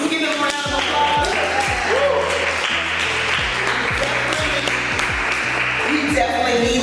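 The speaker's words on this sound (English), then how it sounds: "Can we give them a round of applause?" An audience at a local music and arts event applauds steadily and loudly throughout. The dense clapping is mixed with a rhythmic low beat and a few voices.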